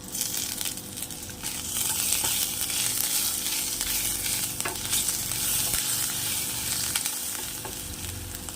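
Tomato fries lightly in a pan, a close, steady sizzle running under scraping and stirring strokes, with no voices.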